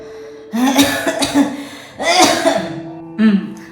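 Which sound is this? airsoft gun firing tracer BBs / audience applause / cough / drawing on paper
cough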